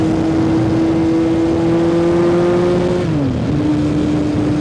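A 1973 Honda motorcycle built by Liquid Illusions revs steadily under light throttle, its engine note holding a smooth, close, continuous pitch before easing down and settling again, with no voices over it.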